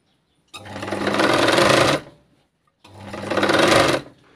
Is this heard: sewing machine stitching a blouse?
yes